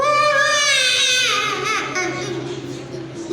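A voice mimics a one-year-old baby crying, producing a loud, wavering wail with rising and falling pitch that sustains for a few seconds, close and alone.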